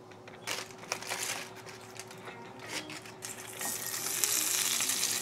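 Hot cooking oil sizzles and crackles steadily in a pan, a fairly close, continuous frying hiss with small pops and scraping stirs, swelling louder toward the end.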